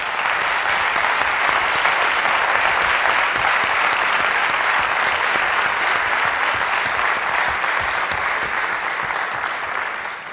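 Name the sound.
audience applause at convention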